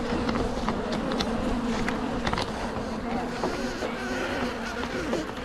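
Dense, steady buzzing of many honey bees at an open hive during an apiary inspection, close and continuous, with occasional faint voices in the background.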